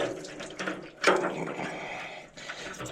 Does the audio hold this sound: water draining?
yes